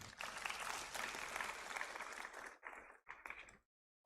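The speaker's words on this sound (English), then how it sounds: "A round of applause for him" Audience applause for a dignitary at a university achievers' day ceremony on a Hyderabad campus, a dense wash of many hands clapping that breaks into a few scattered bursts before stopping abruptly.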